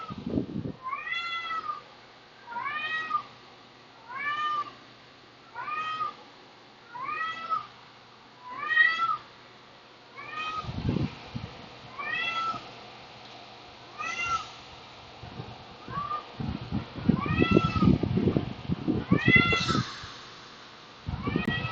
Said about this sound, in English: Oh, that's not Missy meowing